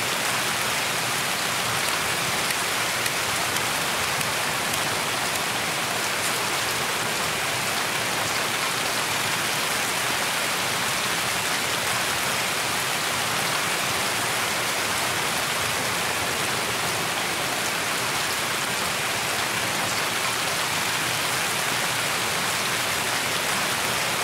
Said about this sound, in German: Wenn der Regen mal aufhören würde, ich höre halt nix.